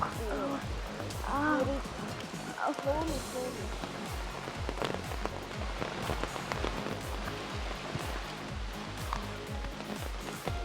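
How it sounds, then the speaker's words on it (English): Heavy rain pours down on a hillside path near Yana Caves in one of the wettest villages, a steady dense hiss close by with faint voices underneath throughout. "Heavy rain."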